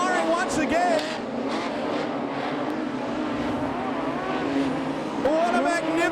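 A modified production race car engine screaming around Charlton Raceway's dirt track during the A-main, loud revving and shifting pitch as cars pass, with an announcer commentating over the noise.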